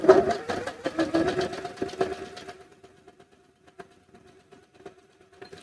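A sewing machine stitches fabric for a sunglass case, a rapid close mechanical chatter for about two and a half seconds before stopping, followed by a few faint clicks of handling.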